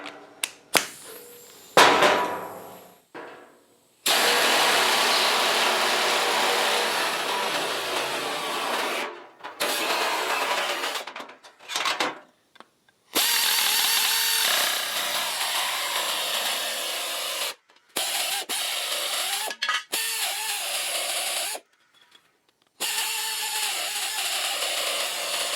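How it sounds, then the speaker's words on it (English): A nibbler chews through a steel sheet metal patch for a 1968 Mustang fender, a harsh, loud buzzing cut running in several long bursts with short pauses between. "Once again, the nibbler."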